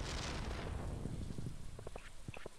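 Steady rain in the video game Stardew Valley Expanded, a soft, even wash of noise with a deep rumble at first that thins out, and a few brief tones near the end.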